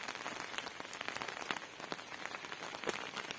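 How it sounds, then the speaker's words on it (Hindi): Heavy rain pours onto surfaces in a mountain village on a cold day, a dense spattering patter of drops with sharper individual hits, continuous and moderately close, no voices. "और ये देखिए इतनी ज्यादा बारिश लगी है।"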